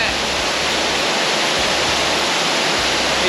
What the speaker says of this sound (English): That's a real thumping waterfall, isn't it?